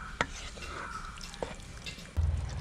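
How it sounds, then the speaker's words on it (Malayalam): Cooked beef stirred into masala in a pan for Eid-special beef curry, with a few clinks of a spoon against the pan, soft scraping and a faint simmer, and a louder knock near the end. "ഇനി ഇതിലേക്ക് നമ്മൾ വേവിച്ച് വെച്ചിട്ടുള്ള ബീഫ് ചേർത്ത് കൊടുക്കാം. നന്നായിട്ട് ഇളക്കി യോജിപ്പിക്കണം."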